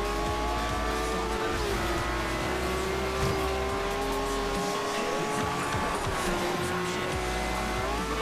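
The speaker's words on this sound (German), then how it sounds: "Oh, Gangwechsel in unterhalb einer Sekunde. Gib Stoff!" A Lamborghini in Forza Horizon revs hard under acceleration, its engine pitch sweeping up through gear changes. The roar stays loud and continuous, with tire squeal mixed in.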